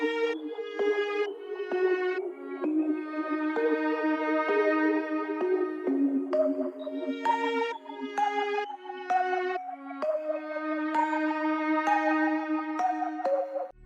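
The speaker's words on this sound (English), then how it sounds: "It's just a violin with like an undertone of like crickets." Dark ambient violin loop built in FL Studio, with sustained bowed notes shifting in a slow repeating pattern and a faint echoing undertone, played alone at moderate loudness with no talking.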